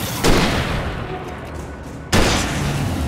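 Two loud, booming gunshots from the video game Alan Wake Remastered, each with a sharp attack and a long rumbling tail, spaced about two seconds apart.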